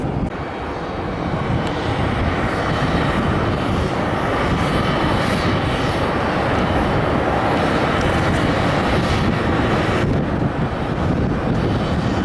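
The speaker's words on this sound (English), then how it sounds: "We got a United A321neo from Chicago O'Hare." A United Airbus A321neo jet at Phoenix roars steadily with loud, broad engine noise close by, a continuous rushing thrust sound sustained without letup and no voices.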